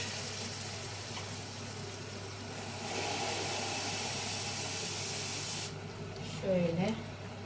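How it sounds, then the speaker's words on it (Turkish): Meat browning in a pan for a Turkish chicken sauté, giving a steady broad sizzling hiss that swells louder midway and then drops, with a brief voice near the end. "etimiz kavruluyor"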